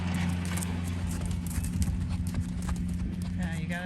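Unloaded horses walk with steady hoof clip-clops close by against a constant low mechanical hum, and a voice speaks over the footfalls.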